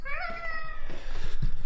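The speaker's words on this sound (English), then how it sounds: "Oh my gosh, that kitty cat's adorable." A cat gives one drawn-out, wavering meow up close, followed by low rustling and bumps with no talk.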